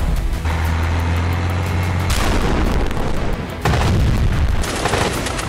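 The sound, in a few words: explosions from fighter jet strikes on Hezbollah targets in Lebanon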